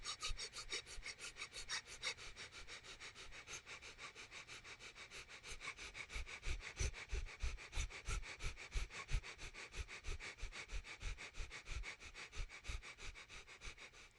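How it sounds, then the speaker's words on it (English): Yoga fire breath: rapid, forceful nasal exhalations in a steady rhythm, close and fairly quiet, speeding into a fast regular pulse of sharp sniffs that continues throughout. "and we're doing fire breath."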